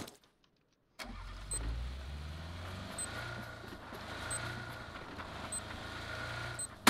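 After a second of silence, a car engine in the battle-royale game PUBG starts up and settles into a low idle, with faint intermittent clicks over the steady rumble and no speech.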